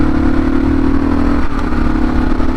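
A small single-piston motorbike engine revs loudly and close by in a steady buzzing drone, with one slight dip in pitch midway and no voices.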